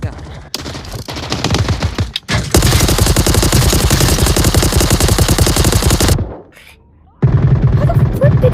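Rapid, loud gunfire rattles through a VR shooter match in Onward, sustained bursts of shots with short pauses between volleys and a brief quiet gap before the firing resumes.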